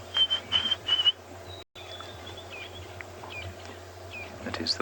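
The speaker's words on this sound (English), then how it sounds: "That is the white-browed scrub robin." White-browed scrub robin calling at Ngala Private Game Reserve, a few clear, high whistled phrases repeated in quick succession near the start, then softer scattered whistles over a steady insect hum.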